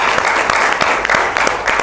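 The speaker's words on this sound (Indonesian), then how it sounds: "Tepuk tangan buat Pak." Audience applause at a motivational talk, a steady wash of many hands clapping close and loud, with sharp individual claps standing out throughout the short burst.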